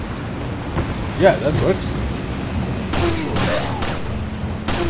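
Several sharp gunshots from Leon firing at barrels on a wagon in the video game Resident Evil 4, cracking out in quick succession over a rumbling in-game background, with someone talking briefly just before.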